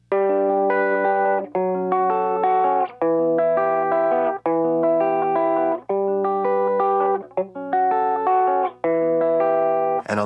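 Electric guitar in drop D tuning plays a riff through distortion and effects, with sustained chord stabs in a repeating rhythmic pattern, loud and close, with short breaks between phrases.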